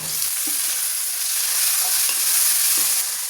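Chopped tomatoes sautéing in a pan with onions for bitter gourd tamarind curry, with a steady sizzle and occasional spoon-scraping stirs throughout, close and fairly loud, with no talking.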